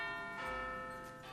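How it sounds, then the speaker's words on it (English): Big Ben ringing with a deep, sustained, resonant toll whose rich overtones hang steadily across the short moment, loud and clear with no voices. "They actually used Big Ben for that bell."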